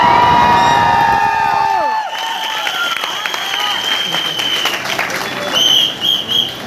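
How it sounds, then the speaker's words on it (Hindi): Seminar audience applauds with scattered cheers and a whistle, clapping following a short tonal passage and continuing at moderate loudness. "आपने ताली इसलिए बजाई है"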